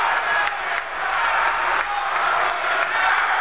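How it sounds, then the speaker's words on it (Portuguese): Members of Angola's parliament applaud during the president's state of the nation address, giving steady, even clapping from a large room that holds at a constant level, with a murmur of voices underneath. "está apenas a mostrar aqui que estão a bater palmas"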